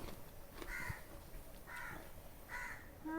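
A crow caws three times at even intervals, faint and somewhat distant against a quiet background with no talking.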